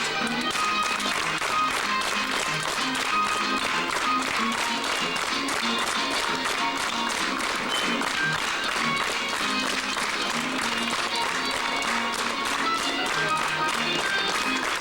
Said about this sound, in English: Now clap twice as fast.